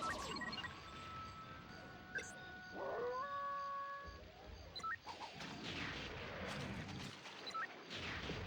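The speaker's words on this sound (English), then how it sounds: "When Lupus howls, sounds like he's about to dig into a bowl of Cookie Crisp cereal." Lupus, the dog character in the N64 game Jet Force Gemini, lets out a rising, tonal howl lasting about a second. Loud game effects and music play around it.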